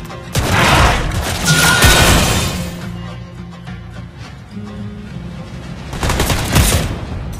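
Clint firing his double-bullet shots in Mobile Legends: loud bursts of rapid gunfire with booming hits, a heavy volley at the start, quieter shots through the middle and another strong burst near the end.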